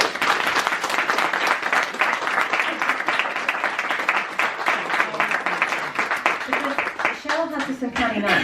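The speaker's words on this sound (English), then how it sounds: "I'd just like to start with a round of applause for that" Enthusiastic applause at a bookshop launch event for a newly published author, sustained close clapping from a sizeable audience that stays loud throughout, with a voice starting to speak over it near the end.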